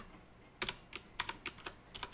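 Computer keyboard typing while entering reinforcement learning code: a quiet start, then bursts of key clicks in an uneven rhythm, close and fairly soft, with no talking.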